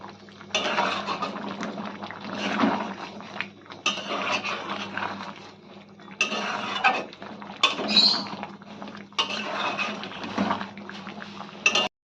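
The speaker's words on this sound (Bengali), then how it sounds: "আর ভালো করে ক্যাপসিকাম পেঁয়াজ ভালো করে মিশিয়ে নিতে হবে।" Capsicum and onion being stirred into Patiala chicken in a pan, with repeated bursts of scraping and clinking from a utensil against the pan, in steady rhythmic strokes, close and moderately loud, with no talking.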